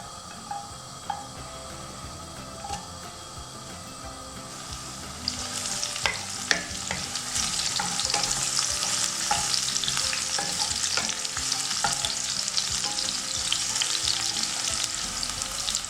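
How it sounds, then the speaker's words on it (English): Garlic and shallot frying in hot oil in a pot: a soft start with occasional taps, then a loud, steady sizzle that swells after about five seconds and continues with light stirring clinks until the end. "When the oil is hot, we fry the garlic and shallot first."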